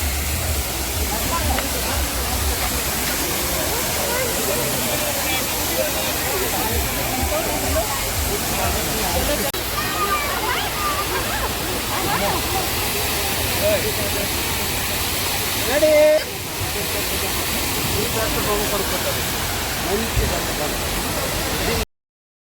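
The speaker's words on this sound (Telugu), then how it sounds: "ఇక్కడైతే మేము వాటర్ ఫాల్స్ వచ్చేసాము" Steady roaring rush of a roadside waterfall on the way to Munnar fills the whole stretch, broad and loud, with faint voices mixed in beneath it.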